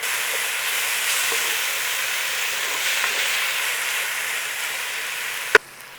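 Garlic ginger paste fries in a pan for coconut chicken, giving a continuous even sizzling hiss at moderate loudness that ends in a sharp click and sudden quiet.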